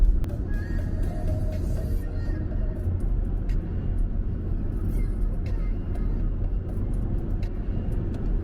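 Engine rumble and road noise from inside a Renault Clio driving on the left in England, a steady low drone with no distinct events and a faint voice underneath.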